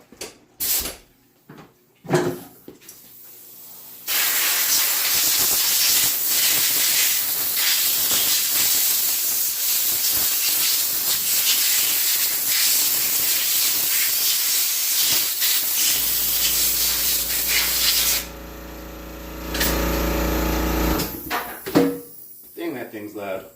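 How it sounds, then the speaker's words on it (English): Compressed air blasts water off a freshly washed sprint car connecting rod, a loud continuous hissing roar lasting most of the clip after a few short bursts, close to the microphone, with a deeper rumbling tone near the end. "Yeah, give her the air blow."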